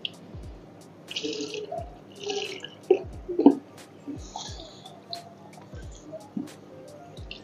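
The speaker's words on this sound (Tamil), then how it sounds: "தண்ணி வந்து வேகமாக வெளியே வந்துடும்." Water rushing and dripping out of a sump filter as it drains, with scattered close drips, splashy gurgles and a few sharper squelching bursts over a low steady background.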